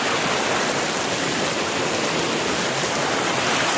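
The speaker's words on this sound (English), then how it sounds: "We found a pretty cool little creek here" A small creek in Virginia flows with a steady broadband rush of water, loud and close, continuous with no voices.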